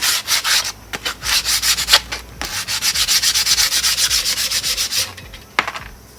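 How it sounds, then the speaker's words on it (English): Rusty brake shoes from the rear drum brakes of a Comet being scuffed by hand, close and loud rhythmic rasping strokes in quick bursts with brief pauses, and no talking. "Scuff them up real quick, and they're gonna go back together."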